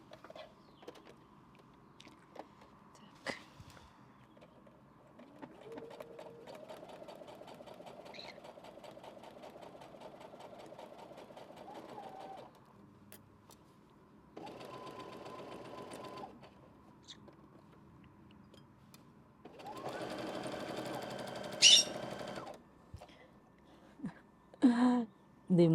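A sewing machine stitches seams of balloon leg summer pants in several separate runs of rapid needle chatter, quiet at first and louder toward the end, with brief handling knocks between bursts.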